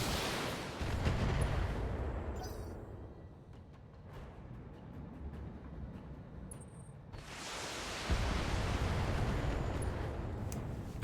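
Mech weapons firing in the BattleTech video game: heavy, rumbling booming volleys that roll on for several seconds, ease into a quieter lull, then surge back loud and dense.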